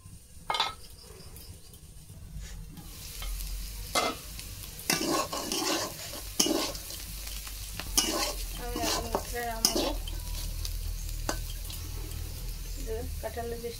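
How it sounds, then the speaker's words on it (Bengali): Onions fry in a pan, a steady close sizzle running throughout beneath scattered metal clinks, stirring scrapes and bursts of clatter, with a voice speaking intermittently over it. "পেঁয়াজটা এখনো একটু কাঁচা কাঁচা আছে, আমি আর একটু ভাজি করে নেব।"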